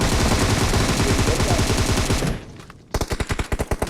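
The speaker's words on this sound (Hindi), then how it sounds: "दूर से किंग चीकी साहब जो है ना फिर से नॉक, बिना देखे इन्होंने गोलियों को ग्रेनेड फेंक और उनके घर के ऊपर हमला और फाइट" Rapid automatic gunfire from the PUBG battle royale game, a dense continuous burst that cuts off, followed after a short pause by a rhythmic string of loud single shots.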